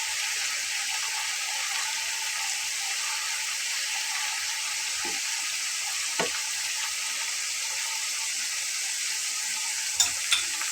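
Potato snacks frying in hot oil for a crispy Ramadan iftar dish, a steady broadband sizzle that holds even and close throughout, with a few small clicks near the end.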